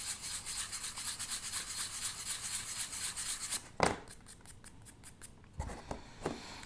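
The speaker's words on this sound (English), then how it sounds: "can always sand it with a small sanding block just to kind of make it uniform." Steady rhythmic rasping of a sanding block rubbing over a plastic scale model aircraft, close up, then a few sharper scrapes and knocks toward the end.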